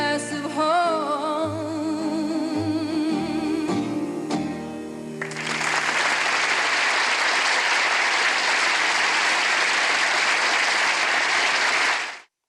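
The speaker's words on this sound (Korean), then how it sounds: "제가 노래한 것도 아닌데 박수를 주셔서 감사합니다." After a song ends, an audience at a humanities lecture with a photographer breaks into loud, dense applause. The last notes of the music fade out, then clapping fills the hall and holds steady for several seconds before cutting off.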